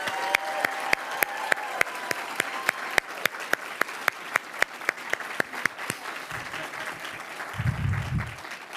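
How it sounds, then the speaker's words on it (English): An audience applauds the Teacher of the Year winner at a children's champions awards event, with clear individual claps standing out over steady clapping before it thins and a few low voices come in near the end. "please join me for one final round of applause for the Teacher of the Year"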